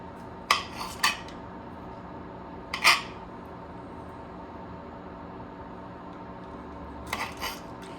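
A knife cuts tomatoes in half on a board, giving a few sharp, separate taps and slicing scrapes with long quiet gaps between them, close and alone.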